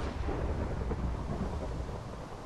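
Minecraft rain and thunder during a survival games match, heard as a steady, loud wash of rainfall with deep rumbling thunder and no talking.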